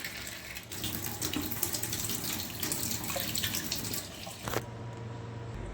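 Tap water runs into a steel kitchen sink being rinsed after cleaning, a steady close hiss and splash. Partway through the flow shifts and thins, then continues more quietly, with no voices.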